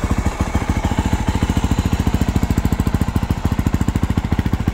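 2024 Yamaha YZ450FX dirt bike engine running close by, a loud, rapid, staccato thumping with evenly spaced firing pulses that stay steady throughout, no voices.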